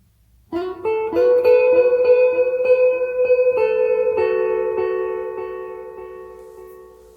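A clean electric guitar plays a short phrase of notes that ring out with repeating echoes and reverb, slowly fading away at the end.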